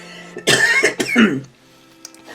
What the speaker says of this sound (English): we're trying to figure out how to take care of that cough